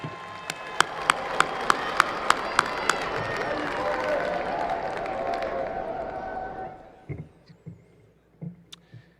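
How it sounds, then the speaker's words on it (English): A large crowd at a graduation commencement celebration applauds steadily for about seven seconds, broad dense clapping with some louder claps punctuating the start, then fading out into scattered thumps and quiet room noise. "give them a round of applause"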